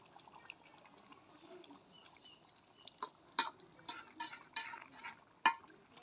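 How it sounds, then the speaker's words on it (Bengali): Fried koi fish going into a boiling curry with black taro stems and being stirred: a quiet simmering bed, then a cluster of sharp, close scraping and clattering bursts in the last few seconds. "এখন ভেজে রাখা মাছটা আমি দিয়ে দেবো।"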